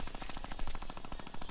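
Rapid automatic gunfire in the video game Fortnite, a dense string of quick repeated shots from a distant firefight, steady and fairly faint, with no talk over it.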